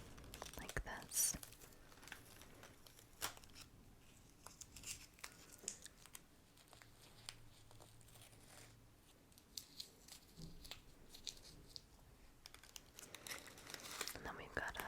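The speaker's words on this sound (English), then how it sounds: "carefully take the tape off of my bow, like this" Tape peeled slowly off a gift bow gives faint, close crinkles and soft tearing, scattered through a quiet room.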